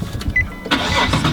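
An automatic car's engine cranks and catches in a short burst, close and fairly loud, settling quickly toward a steady run with no voices present.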